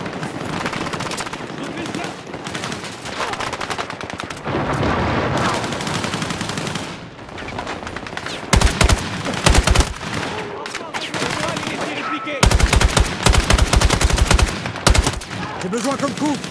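Gunfire in the video game Battlefield 6: loud bursts of automatic weapon fire and single shots, with dense rapid volleys in stretches, mixed with other battle noise.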